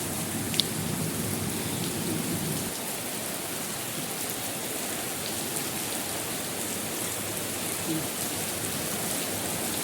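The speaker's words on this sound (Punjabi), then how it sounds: "ਬੜੀ ਜ਼ੋਰ ਨਾਲ ਮੀਂਹ ਆਇਆ" Heavy monsoon rain pours down steadily in a village during the rainy season, a dense, constant hiss of drops striking surfaces, with no voices over it.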